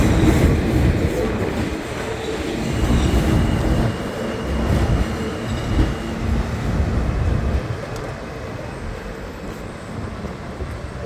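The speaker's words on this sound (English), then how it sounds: "We have the F train." A New York City subway F train rumbles by at West 8th Street with rhythmic clacking of wheels on rails, loud at first and slowly fading as it moves away.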